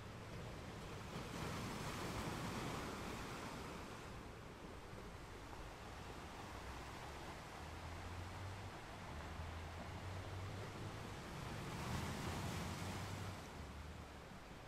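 Ocean waves roll onto a beach in the early morning, a steady wash of surf with gentle swells rising and falling, alone and moderately faint with a little wind in the background.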